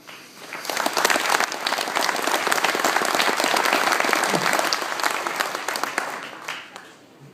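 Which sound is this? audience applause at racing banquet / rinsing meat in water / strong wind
audience applause at racing banquet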